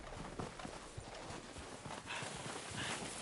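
Horses in Red Dead Redemption 2 clip-clop along at a walk, hooves thudding in an irregular rhythm over a faint background hiss.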